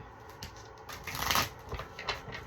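Cards riffle and shuffle close up in quick papery bursts, building to a louder flurry midway, then continuing in short scattered shuffles.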